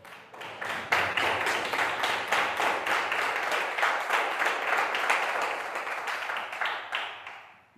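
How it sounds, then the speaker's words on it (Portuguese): A congregation at a Christian worship gathering gives a round of applause for Jesus, a loud, dense burst of many hands clapping together in a quick rhythmic beat that builds at once and fades near the end. "Dê uma salva de palmas para ele."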